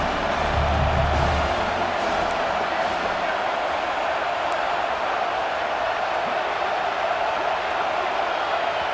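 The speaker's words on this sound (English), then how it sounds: "with this place rocking, the crowd forces a false start" Steady, dense roar of a packed stadium crowd at a College Football 26 game, continuous and loud throughout with a heavier low swell in the first few seconds, as fans rock the place on a third-down play.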